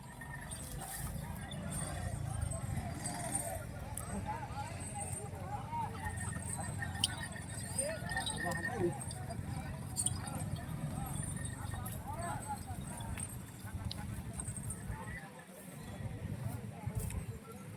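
Irregular clopping of bulls' hooves on hard ground at a cattle market, steady and moderately close, with people talking over a low rumbling background.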